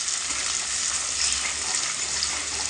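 Crab roast masala fries in a pan, a dense, steady close-up sizzle with the soft hiss of oil and occasional stirring, no voices over it.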